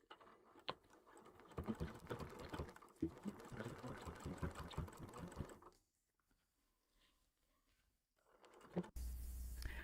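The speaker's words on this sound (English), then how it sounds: "and begin stitching another row of hearts" A sewing machine stitches a row of stacked hearts on an orange quilt, running steadily and close for about six seconds before stopping into near silence, followed by a brief louder noise at the end.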